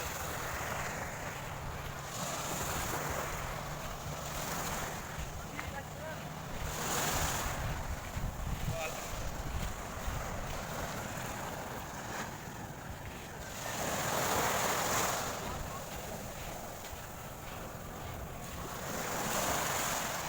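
Soft ocean waves wash onto Pundaquit Beach in Zambales in slow, gentle surges, with steady wind noise buffeting the microphone and no voices.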